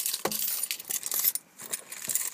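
Car keys jangle and clink in bursts close by, metallic rattles starting and stopping as they are rummaged through, with a short pause midway.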